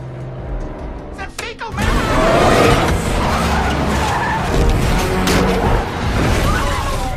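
A car driven recklessly, with tires skidding and squealing in a long, loud screech over a roaring engine, joined by a rough, gritty scrape as the slide continues.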